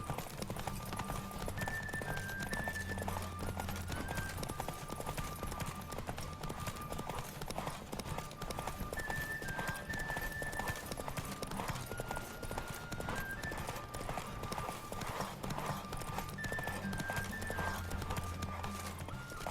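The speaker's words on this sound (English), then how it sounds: "Don't spare the horse!" A horse gallops in The Witcher video game, its rapid rhythmic hoofbeats continuous and prominent across the whole stretch, with a game music melody playing over it.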